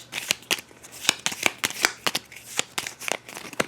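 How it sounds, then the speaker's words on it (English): A deck of initiative cards for the Darkest Dungeon board game is shuffled by hand, giving a quick run of close, crisp riffling snaps and flutters in irregular bursts, with no talking. "And we'll shuffle up the initiative deck."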